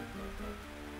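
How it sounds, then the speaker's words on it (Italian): Rain in the Pokémon Sapphire video game, a steady, even hiss of falling rain over faint tonal game music, unbroken for the whole moment. "piove"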